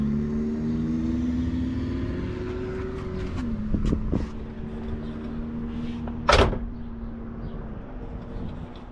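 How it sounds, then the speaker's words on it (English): The door of a restored 1967 Pontiac Lemans shuts once with a firm, solid thud near the middle, plus a couple of lighter latch clicks just before, over a steady low engine idle hum with no talk. "And the doors just shut really nice and easy."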